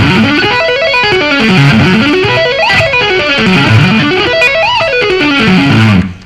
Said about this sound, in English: try doing some hammer-ons and pull-offs on the top half of the arpeggio